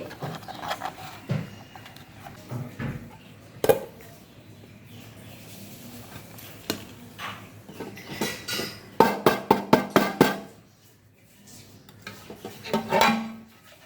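A utensil works around the edges of a baked chocolate cake in its pan, making close, intermittent scrapes and metallic clinks, with a quick run of sharp taps near the end. No one speaks.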